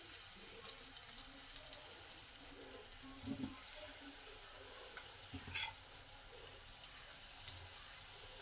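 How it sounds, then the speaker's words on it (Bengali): Snacks fry in hot oil in a pan with a soft, continuous sizzle, broken by occasional light clinks and one short, louder splutter midway. "এক এক করে স্ন্যাক্সগুলো ভেজে নেব।"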